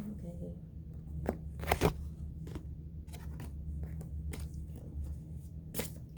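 Tarot cards shuffled by hand in a series of quick riffling, flicking bursts over a low steady background hum, fairly close and moderately quiet.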